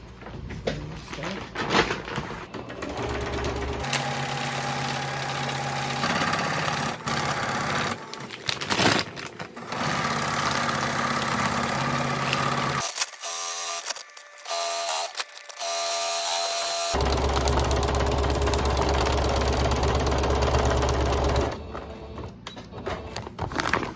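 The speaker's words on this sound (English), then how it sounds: "What we'll do now is flip these up and sew on the top" A sewing machine stitching across the top of bags made from animal feed sacks, close mechanical whirring and clattering in bursts, with several pauses between runs and a short near-silent gap in the middle.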